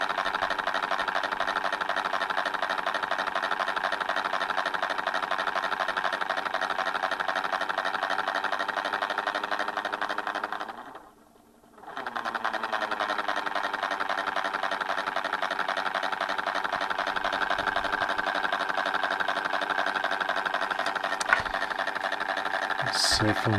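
The motor of a homemade mechanical TV set runs with a steady, close whirring hum, briefly dropping out and starting again partway through, then carrying on evenly.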